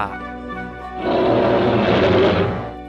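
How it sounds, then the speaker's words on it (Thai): Roar of the kaiju Guiron, made from a zoo lion's roar slowed and deepened, begins as a low droning growl, then swells into a loud, rough, sustained bellow before tapering off, heard alone. "เสียงคำรามของกีรอนใช้เสียงคำรามของสิงโต ที่บันทึกมาจากในสวนสัตว์นำมาทำให้ยืดช้าและทุ้มต่ำลง"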